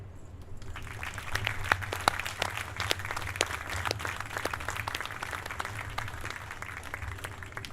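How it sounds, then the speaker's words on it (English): A crowd at a 2022 National Maritime Day commemoration in Baltimore gives a sustained round of applause, heard from a distance at modest volume, with sharp individual claps standing out against the continuous patter. "let's give a loud round of applause to our service members abroad, especially those in harm's way"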